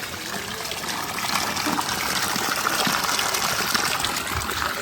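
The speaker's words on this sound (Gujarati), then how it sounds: "અહીંયા જો પાણી જાય છે" Water gushes steadily along a channel through a farm orchard of chikoo and coconut trees in Khambhaliya, a close, continuous splashing flow with no talk.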